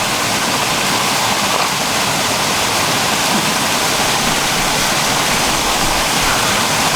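Motors of an underwater ROV running while stirring up sediment during a search for a drowned drone, a loud, dense, constant rushing wash of noise with no breaks or voices.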